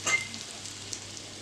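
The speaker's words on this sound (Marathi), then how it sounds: "तेल एकदम गरम तापवलेलं आहे। त्यात आता ही उडीद डाळ घालूया, हिंग" Urad dal and asafoetida sizzle in very hot oil for a tadka, a soft steady crackling hiss with a brief louder splutter at the start, heard alone and fairly quiet.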